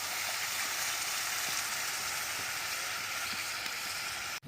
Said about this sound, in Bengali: মশলাটা আমাদের খুব ভালোভাবে কষানো হয়ে গেছে। এতে আমি দিয়ে দিচ্ছি জল।